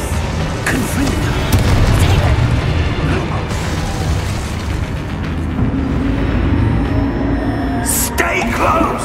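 A Confringo fire spell bursts in Hogwarts Legacy as a loud, sustained booming blast with rumbling debris and a sharp crackle near the end, with no talking.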